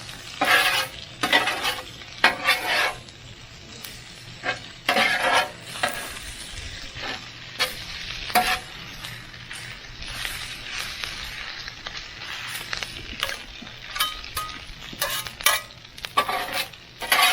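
Egg fries with chicken fried rice in a pan while a utensil stirs and scrapes in repeated bursts over a continuous sizzle, cooked close up in an RV kitchen.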